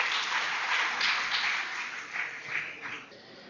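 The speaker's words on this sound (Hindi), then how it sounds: "मैं आप सबसे आग्रह करूंगा तालियों" Welcoming applause from the audience at a Hindi health lecture on the sutras of Vagbhata, steady crowd clapping that swells and ebbs over a few seconds before tapering off.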